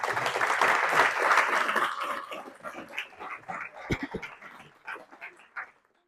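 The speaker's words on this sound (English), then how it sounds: "can we get a round of applause for the first two speakers?" Applause from an audience at a farming talk on a tour stop at Parkview Riddings, dense clapping at first that thins out into scattered claps and fades by the end.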